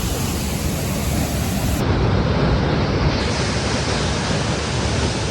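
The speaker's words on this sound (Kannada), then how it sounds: "ಇದು ಸಣ್ಣ ಫಾಲ್ಸ್ ಇದರ ಮೇಲೆ ಇನ್ನೊಂದು ದೊಡ್ಡ ಫಾಲ್ಸ್ ಇದೆ" A small waterfall on a rainy day flows in a steady, loud, broadband rush of falling water that stays even throughout, close to the microphone with no voices.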